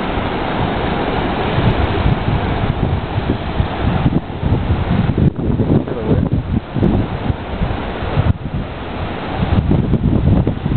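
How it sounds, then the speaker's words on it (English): Ocean waves surge and break against the rocky shore at Thunder Hole in Acadia National Park, Maine, a loud continuous roar with repeated crashes, heavy wind buffeting the microphone throughout. "Look at them waves."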